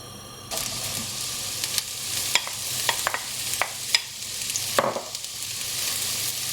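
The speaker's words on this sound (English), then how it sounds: "once the oil heats up, which will take about a minute or so, we're going to add the chopped onions" Chopped onions drop into hot sardine oil with a burst of sizzling, then keep frying steadily while a spatula scrapes and clicks against the pan in irregular strokes.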